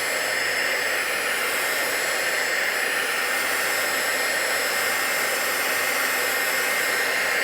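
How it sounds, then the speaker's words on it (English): Steady, even whooshing hiss of a quiet heat gun blowing hot air over a watercolor painting, continuous and unchanging for several seconds, close by and heard alone without voices. "new handy dandy heat gun that I got that I'm loving. It's nice and quiet."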